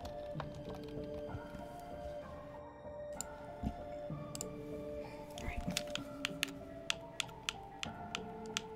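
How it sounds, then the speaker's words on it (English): Computer keyboard keys click in scattered quick taps, growing busier toward the end, set under steady game music and sound effects. "I'm so good at typing."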